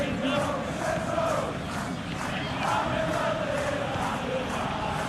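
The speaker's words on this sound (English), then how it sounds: "Maybe the crowd will stay a little quieter next time." Steady stadium crowd roar from a PES21 football video game, a dense, continuous wash of distant voices swelling slightly in places, with no clear speech over it.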